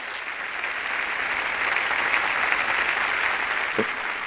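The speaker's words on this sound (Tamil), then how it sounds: "உண்மையிலே இந்த கைதட்டு பத்துமா சொல்லுங்க பார்ப்போம்." Television studio audience applauding at a talk show, a steady, even wash of many hands clapping at moderate volume, sustained without a break and with no voices.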